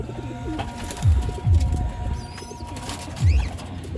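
Pigeons cooing in repeated low throaty calls, about four distinct coos spaced a second or so apart, close by, with light wing flutters and faint bird chirps in the background.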